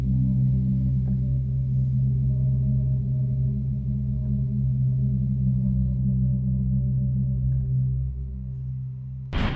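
A synth pad called solar hum, built from a NASA space recording and spread across a keyboard, gives a low, dense, droning hum that holds steady and fairly quiet, with faint high flickers and a sharp cutoff at the end.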